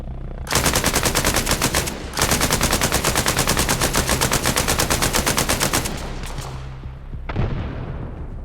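Long sustained bursts of automatic fire from a 5.56 light machine gun in the Arma Reforger video game, loud and close with rapid even shots, a short pause, a fading tail, then another brief burst.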